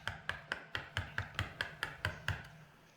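A chisel is struck about ten times in an even rhythm while chopping a wooden mortise. The mallet blows land as crisp, close knocks, each one short and sharp, with nothing else heard.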